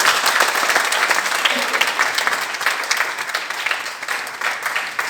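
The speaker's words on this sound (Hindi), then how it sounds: "बजाओ ताली" An audience at a leadership talk claps together, a full, lively round of applause that stays loud and busy throughout with slight swells.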